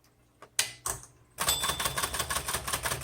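A 1970s Smith Corona Electra 210 electric typewriter switched on: a few clicks and clunks, then the motor starts with a steady loud hum and rapid rhythmic mechanical chatter, close up, with no talk.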